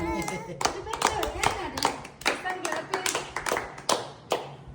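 Quick rhythmic hand clapping from a small group nearby after a birthday song, lively and uneven, with voices chattering underneath.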